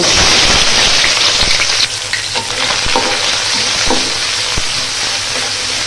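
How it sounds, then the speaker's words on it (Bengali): Onions fry loudly in a pan with a dense, crackling sizzle like heavy rain, while a spoon scrapes and taps the pan every so often. "পেঁয়াজ ভালো করে ভাজে নেব।"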